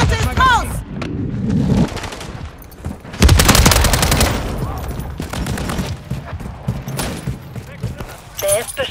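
Gunfire in Call of Duty: Modern Warfare 3, with rapid bursts of automatic shots and a heavy fusillade loudest in the middle, mixed with a voice speaking.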